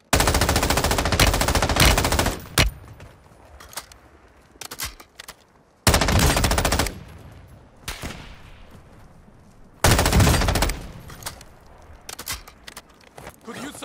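M13B assault rifle fire in the video game Warzone 2.0, with three loud, rapid automatic bursts separated by quieter stretches of scattered shots and movement noise.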